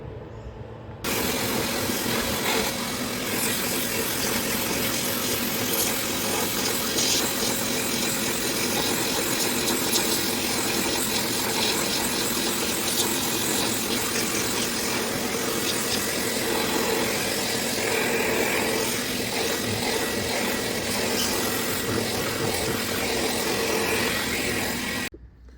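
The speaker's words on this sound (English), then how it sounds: "I'm gonna vacuum it out and clean it and continue to use it" A vacuum cleaner roars continuously as it cleans out a BMW 3 Series cabin air filter, loud and close with a steady broadband whoosh for about 25 seconds, starting and stopping abruptly, with no talking.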